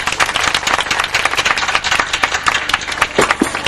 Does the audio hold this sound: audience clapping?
yes